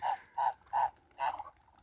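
Purebred farm geese honking: four loud, distinct nasal honks in an even rhythm, close by with little else around them.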